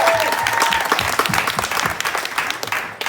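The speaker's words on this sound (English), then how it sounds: "Can I get a round of applause for him?" A comedy club audience at a stand-up show gives a round of applause for a friend who came from Amsterdam, dense and close clapping that holds steady throughout with a whoop or cheer briefly rising near the start.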